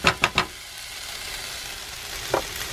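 Fried rice in a pan cooked in a van, three quick scraping stirs at the start and one more near the end over a soft steady sizzle.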